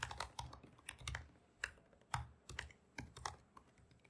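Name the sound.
typing on a computer keyboard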